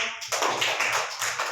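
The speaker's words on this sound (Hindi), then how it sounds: "वेरी गुड, ताली बजाओ।" Schoolchildren in a classroom clap their hands together in a short, fairly loud burst of applause lasting under two seconds.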